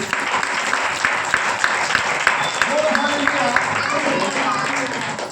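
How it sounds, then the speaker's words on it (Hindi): A church congregation claps for God during a Hindi sermon, with rhythmic clapping beats running steadily under crowd noise and a preacher's voice talking over it. "अरे ताली बजाइए परमेश्वर के लिए।"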